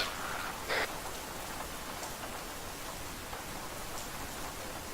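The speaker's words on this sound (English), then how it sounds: "That is rain hitting objects." Steady rain pattering on surfaces in the military shooter ArmA 3, a continuous even hiss of drops with no voices.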